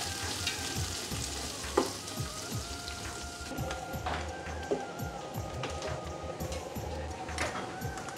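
Sliced onions fry in a pan for Emirati mandi, giving a dense, steady crackling sizzle with occasional stirring scrapes and knocks, heard close up.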